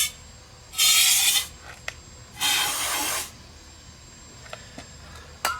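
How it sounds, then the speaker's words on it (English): Two sharp hissing bursts of contact cleaner sprayed into a Toro Recycler mower carburetor, each lasting under a second with a short pause between, close and loud over quiet background with small clicks. "we'll hit it with a little bit of contact cleaner in the carb."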